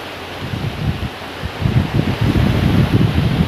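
Gusty storm wind during a rainstorm rumbles and thumps against the microphone in uneven bursts, growing stronger halfway through, with leaves rustling in the background.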